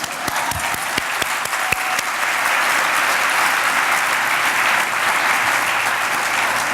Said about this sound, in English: You can applaud her, yes, please.